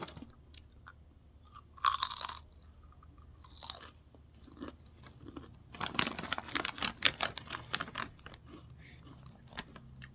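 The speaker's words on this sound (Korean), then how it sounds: "저 이렇게 맛있는 과자 처음 먹어" Crunchy potato chips are chewed close up, with bursts of crisp crunching and softer chewing between them, and no speech.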